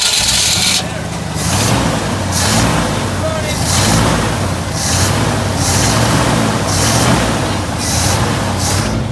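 A 1982 Ford Bronco engine revs up and down in repeated surges, loud and close, with voices speaking over it.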